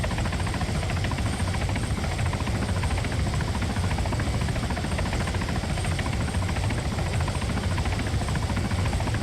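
A military transport helicopter in the video game Arma 3, its engine and rotor droning loud and steady throughout with an even, unbroken roar and no speech.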